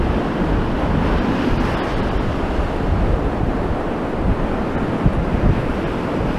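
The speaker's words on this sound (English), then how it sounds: "I can feel the wind picking up" Strong wind roars and high-tide waves crash along Blackpool promenade, forming a dense, continuous wash of surf and gusting wind noise on the microphone.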